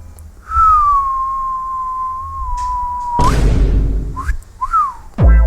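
A long, steady whistle holds one pitch, then a burst of harsh noise cuts in, followed by two short whistled chirps and a sudden thump.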